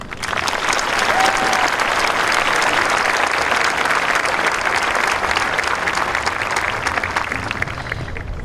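Audience at a high school graduation ceremony breaks into loud, sustained applause, dense clapping from a large crowd that fades slightly toward the end.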